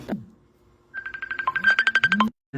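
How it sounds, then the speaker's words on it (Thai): A phone ringtone for an incoming call plays as a short, bright, rising melodic tune of quick repeated tones, close and fairly loud, cut off abruptly after about a second and a half. "มีโทรศัพท์เข้ามานะคะ"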